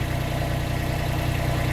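A car engine idles with its engine covers refitted and no soundproofing: a steady, even low hum and whir that holds constant throughout, close by and alone.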